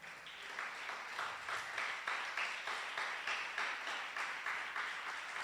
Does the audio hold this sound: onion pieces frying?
no